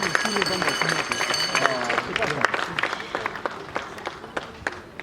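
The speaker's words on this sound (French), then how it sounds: "Est-ce que vous pouvez applaudir très très fort pour M. Maska Diombo à la vidéo?" Audience applause for a comedian at a comedy show, a continuous patter of many hands clapping with crowd voices mixed in, fairly close and steady across the clip.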